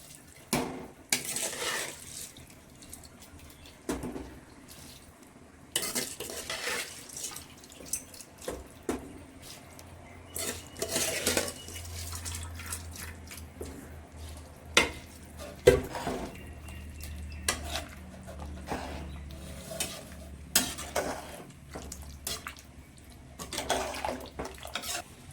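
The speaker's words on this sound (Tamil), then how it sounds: "இப்போ அரிசி சேர்க்க போகிறோம்." Basmati rice being tipped into a pot of boiling water for chicken biryani and stirred, giving repeated splashy pours and drips with scattered clinks of utensil on pot, intermittent and close.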